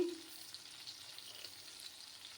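Eggplant slices frying in a pan over a low gas flame give a soft, steady, close sizzle that runs on without a break.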